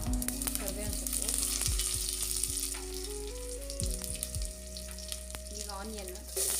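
Cumin seeds and curry leaves crackle and sizzle in hot oil, a dense continuous frying hiss close by, with a soft melodic tone running underneath.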